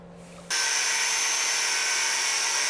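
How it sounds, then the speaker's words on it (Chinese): High, steady power-tool whine of a gear being cut into a fan-blade shape to make a tool for a Mercedes-Benz engine repair, starting abruptly after a brief quiet moment and holding loud and constant. "我们把齿轮切成这个扇叶形状，然后搞个螺丝上起来。"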